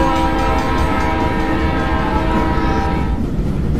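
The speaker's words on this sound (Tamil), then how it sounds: "காடு, மலை, வீடுகள், கிராமம் எல்லாத்தையும் தாண்டி அந்த ரயில் அதிவேகமாக பயணிச்சிட்ருக்கு." Train travelling at high speed through the night, a loud, continuous rumble and rush with rail noise and faint horn-like tones carrying steadily throughout.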